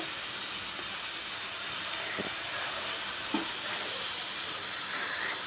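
Peanuts frying in oil for a manathakkali rice dish, a steady soft hiss and sizzle running throughout, with a couple of faint clicks over it.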